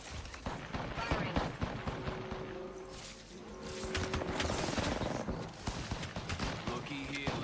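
Rapid bursts of gunfire crack in Apex Legends, dense clusters of sharp shots in uneven volleys with mechanical clatter, while a game character's voice briefly speaks between them.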